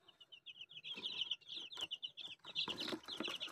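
Native chickens cluck softly and fairly close in a coop, a quiet run of short, repeated clucks and chirps in quick bursts.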